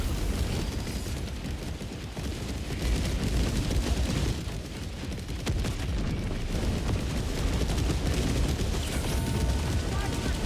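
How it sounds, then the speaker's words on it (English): An orbital barrage in Helldivers 2 pounds the area with a continuous rumble of explosions and booming blasts, dense and loud throughout, with scattered gunfire mixed in. "Orbital barrage incoming. Stand clear."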